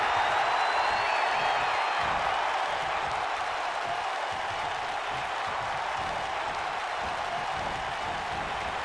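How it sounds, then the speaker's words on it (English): Wrestling crowd at an Impact Wrestling bout, Fallah Bahh vs. Rohit Raju, roaring with steady cheering and applause that holds loud and continuous throughout, with no talk over it. "by the sound of this crowd, I think they're getting what they wanted"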